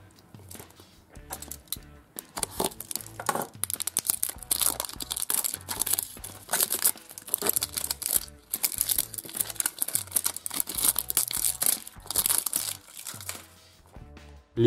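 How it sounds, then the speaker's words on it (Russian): A plastic toy capsule holding a Batman DC Comics figure being opened up close, with loud continuous crinkling, crunching and tearing of plastic wrap that goes on for most of the stretch in dense bursts. "Теперь давайте откроем вот такую пластиковую капсулу с Бэтменом DC Comics"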